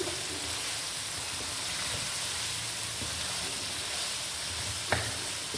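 Mutton with spices frying bhuna-style in a pan for gobhi gosht: a steady, dense sizzle that carries on evenly throughout, with a soft scrape around the fifth second.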